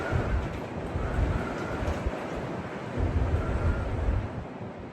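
Strong wind roars across the top of the Stratton Mountain fire tower, buffeting the microphone in a loud, steady rush with gusty swells and no talking.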